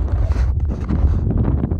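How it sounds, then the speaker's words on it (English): Gusty wind buffets the microphone in loud, uneven bursts, roaring over an open outdoor space on a muddy bank at the coast's edge. "it's a bit windy"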